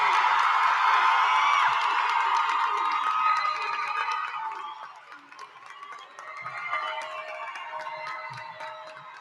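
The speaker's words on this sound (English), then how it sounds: "Let's give them one more round of applause" A large crowd cheers and whoops loudly at a graduation ceremony, with scattered clapping; the roar dips midway and then swells again.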